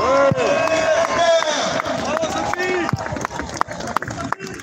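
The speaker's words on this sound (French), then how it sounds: "On peut l'applaudir très fort." A crowd at a Paris rally gives loud, continuous applause mixed with cheering voices and chatter. A few sharper individual claps stand out as the ovation thins near the end.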